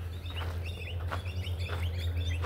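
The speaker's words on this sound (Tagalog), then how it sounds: "Ang ingay ng mga ibon." Small birds chirp in quick, high twittering bursts against a steady low hum of background noise.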